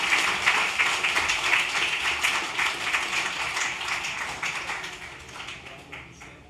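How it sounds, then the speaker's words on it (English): An audience at a literary festival session at the NGC Bocas Lit Fest 2024 breaks into a dense, steady round of applause that carries on loud throughout, easing slightly toward the end. "I want you to give her a big round of applause as she comes up to say hello to you."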